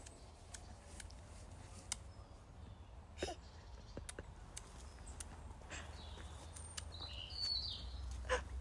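Birds sing outdoors in faint, scattered chirps and short calls over a low background rumble, with a slightly louder call near the end and no talking.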